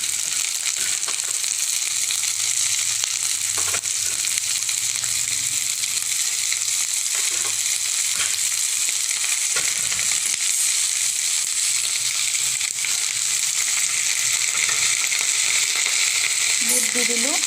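Tora shoots and potatoes fry in a pan, a loud, steady close sizzle that runs throughout, with occasional stirring scrapes and clinks.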